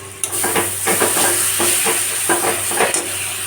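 Spice paste of cumin powder and whipped sour yogurt being stirred and fried in a pan for a Bengali jackfruit and prawn curry, with a steady close sizzle and repeated scraping strokes of a spatula.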